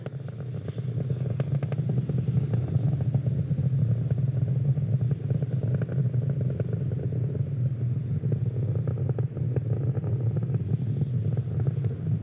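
Falcon 9 rocket engines during ascent near maximum aerodynamic pressure, heard as a steady, loud, low rumbling roar with crackling texture that continues unbroken throughout.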